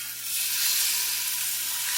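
Velveted chicken sizzles in a hot cast iron pan, a loud, continuous frying hiss that swells slightly and holds steady, with no talking over it.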